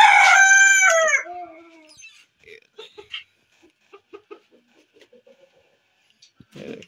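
Chickens on a small bird farm being fed grain: a loud rooster crow opens, followed by scattered soft clucks and pecking sounds, with faint background noise.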